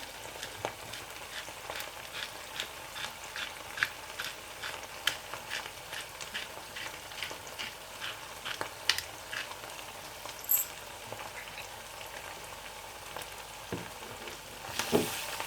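A pan of food with spices and black pepper stirred into tomato paste fries with a soft, steady sizzle, punctuated by many light scraping and tapping strokes of a utensil against the pan.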